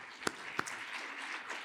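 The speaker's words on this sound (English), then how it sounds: "Yeah, we can applaud." Audience at a conversation event with a Canadian minister applauding, a brief patter of clapping with a couple of sharper individual claps, fairly faint and distant.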